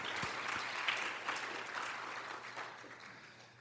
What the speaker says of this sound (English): I think we haven't applauded him yet